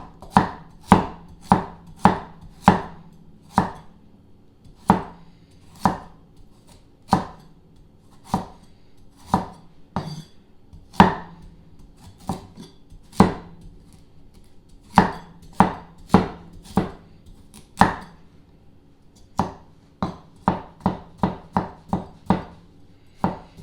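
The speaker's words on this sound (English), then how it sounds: "next we can chop up a couple of carrots" A knife chops carrots on a cutting board in a home kitchen, with around thirty crisp, close knocks that come in quick runs with short pauses between them. A fast burst of chops comes near the end.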